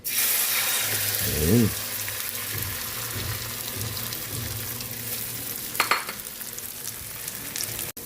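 Tortang talong, an eggplant omelette, frying in a pan with a steady close sizzle for the whole stretch, plus a brief scrape or stir near the start and a short clatter toward the end.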